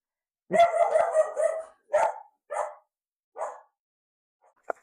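A dog barks nearby: a quick run of rapid yaps, then a few separate barks spaced out, ending with a faint click.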